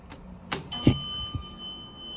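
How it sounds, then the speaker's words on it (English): A department store style elevator chime in the old Sakowitz Bros building at 1111 Main rings out as steady, sustained bell-like tones over faint clatter and room noise. "Oh, that chime."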